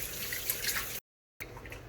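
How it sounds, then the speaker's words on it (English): Water from a running tap splashes and drips as hands are washed, a close, moderate trickle with small splashes, briefly cut to silence before resuming. "Wash my hands again."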